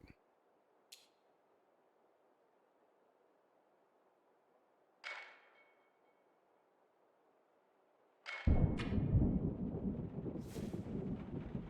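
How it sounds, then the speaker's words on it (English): Thunder in the video game Rue Valley: after near silence broken by a few faint clicks and soft knocks, a sudden loud, deep crack bursts in and rolls on as a heavy rumble. "The sound of the loudest thunderclap jerks you out of your slumber."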